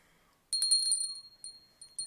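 A small handheld bell rung during a home cleansing ritual gives a bright, sustained ring that slowly fades, followed by a few lighter strikes, alone and close in a quiet room.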